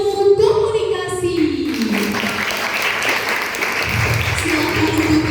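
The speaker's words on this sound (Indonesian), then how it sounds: "Tepuk tangan untuk kedua narasumber kita pada hari ini." A seminar audience in a hall claps for the speakers, a steady spread of applause through most of the clip, with an amplified voice and tones over the start and more talk near the end.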